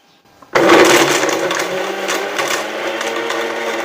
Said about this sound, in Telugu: మిక్సీలో వేస్తానండి.